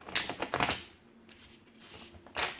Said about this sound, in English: Once more, because that was a bad shuffle.